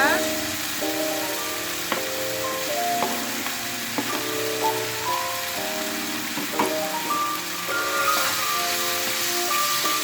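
Beef is stir-fried in spice paste for Tegal-style daging bumbu age, a soft sizzle and hiss running under steady background music, with a few stirring clinks.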